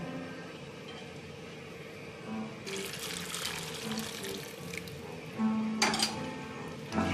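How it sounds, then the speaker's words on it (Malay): Water runs steadily into a cooking pot of spiced sweet potato filling, a continuous splashing stream with a faint metallic clink near the end. "Kita tambah air."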